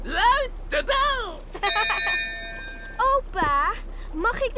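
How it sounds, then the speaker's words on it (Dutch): A bell is rung aboard a boat in a Peppa Pig cartoon, giving one bright, sustained ring with shimmering overtones that fades out between bursts of cartoon character voices. "Peppa, luid de bel!"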